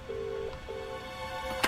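A telephone rings out unanswered on a call to a police station in the 2015 FMV adventure game Contradiction: two steady ringback tones, a short one then a longer one, with a brief click at the end and no voice.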